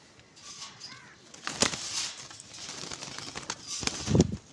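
Pigeons, including a fancy teddy-type pigeon kept by a hobbyist, make soft cooing calls. Bursts of wing flapping and fluttering come through faintly in a quiet space, with a louder flurry near the end.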